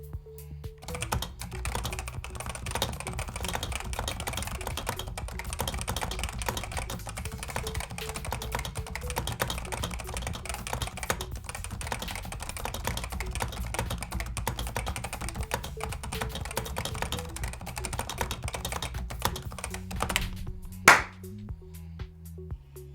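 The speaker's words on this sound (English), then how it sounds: "Typing test time." Fast continuous typing on a mechanical keyboard with Topre switches, a dense stream of soft, muffled keystrokes at close range with no talking, ending with a sharp louder clack near the finish.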